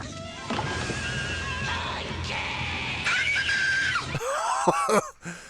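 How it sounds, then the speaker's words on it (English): A child in a creepypasta horror story screams loudly and continuously, the shrill cry rising and wavering over several seconds and ending in a few broken, warbling shrieks. "That's the scream of a kid who's about to fucking die."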